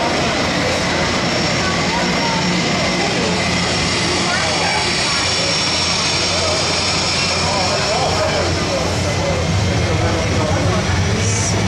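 A plane lands at the miniature model airport of an indoor model world, giving a loud, steady jet-engine roar that fills the whole span. People talk close by over it.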